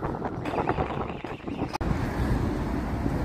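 Strong wind buffeting a microphone outdoors in Blackpool town centre near the Winter Gardens, a continuous loud low rumble with gusty swells and one sharp dropout, no voices.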